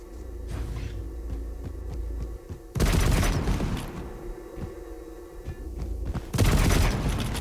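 Gunfire in a Quake Pro League match, with bursts of rapid shots and booming hits over a steady game hum, loud stretches alternating with quieter passages, and no voices.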